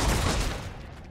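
Rapid gunfire from Deathwatch: Tyranid Invasion rattles in a dense, continuous burst, loud and close, fading slightly toward the end.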